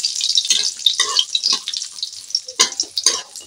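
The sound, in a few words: bori lentil dumplings frying in oil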